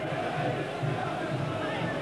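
A large football crowd at a 1987 Sunderland v Gillingham play-off match gives a sustained, distant roar and murmur as a free kick is taken and cleared, a broad, steady wash of voices.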